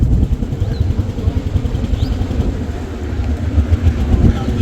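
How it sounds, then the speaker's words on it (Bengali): A trawler's engine drones steadily and close, a dense low rumble running the whole time, heard on a boat heading out from Char Kachhopia market toward Dhal Char. "আমাদের ট্রলারটি সেরে দিছে আর যাচ্ছি ঢালচরের উদ্দেশ্যে"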